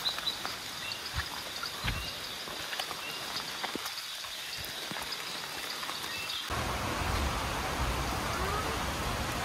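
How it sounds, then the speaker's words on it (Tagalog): Heavy rain falls in a forest, a dense steady hiss of drops on leaves and ground that swells louder partway through. "Lumakas na po yung ulan."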